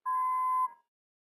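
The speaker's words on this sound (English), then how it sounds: "feel free to leave a message after the beep" A single clean electronic answering machine beep in a horror mystery game set in a haunted lighthouse, a steady loud tone lasting just over half a second, then silence.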